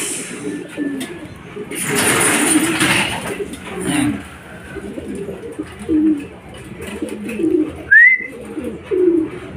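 Homing pigeons, young birds in a derby race, arrive at their loft, giving soft repeated coos over steady outdoor background noise, with a sharper chirp near the end.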